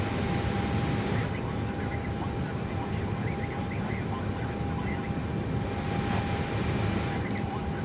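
Air Jamaica airliner sitting with engines running before taxi, a steady broadband roar and whine that stays loud and unbroken throughout, with a faint tonal hum riding over it.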